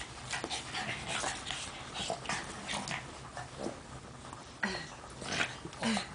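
Dogs play-fighting up close, with yips, whimpers, panting and scuffling running as a busy, continuous tussle with no talk.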